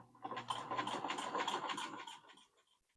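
Vintage sewing machine fitted with a Chadwick zigzagger attachment, a quiet close rhythmic whir and clatter of stitching for about two seconds before it winds down.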